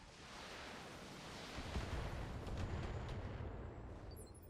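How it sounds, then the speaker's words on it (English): A barrage of LRM-5 long-range missiles in the Battletech mech combat game, a dense rumbling roar of overlapping explosions that swells midway and holds steady, with no talking. "I suspect an LRM-5 barrage"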